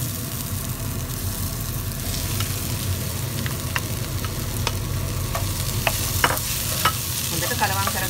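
Curry mixture for Chinese rolls is stirred in a pan over a low steady sizzle and background hum, with sharp spoon taps and scrapes coming more often in the second half.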